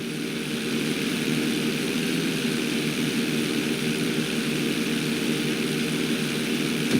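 Propeller airplane engine in a flight school mission in Grand Theft Auto V, a steady droning hum that holds loud and constant throughout, with no talk over it.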